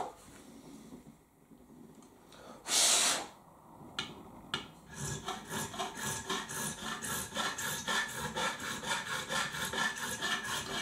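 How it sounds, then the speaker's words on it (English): Short file grating across the fret edges of a Fender Player Series Stratocaster, a brief bright scrape then a run of steady rhythmic rasping strokes, close and clear with no talking. "You always know you're removing the edges when you get that noise,"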